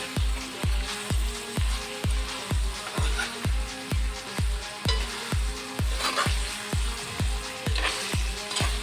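Pepper chicken (kala mirch chicken) with coriander powder fries in a pan while being stirred, giving a regular rhythm of spoon scrapes roughly twice a second over a constant close, moderately quiet sizzle.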